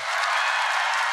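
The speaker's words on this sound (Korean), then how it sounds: "박수와 환호!" A concert crowd at a live anniversary show claps and cheers together, a dense, even wash of applause with no gaps across the whole second.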